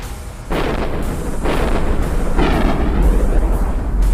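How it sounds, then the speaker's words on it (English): Smart bombs detonating from battleships in the space game Eve Online, a sustained loud booming roar with repeated heavy bursts roughly every second, dense and continuous throughout. "There's smart bombing battleships."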